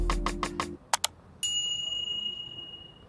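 A subscribe bell sound effect: several quick soft taps, two bright pings, then a single clear ringing ding that sustains and slowly fades, alone and fairly quiet.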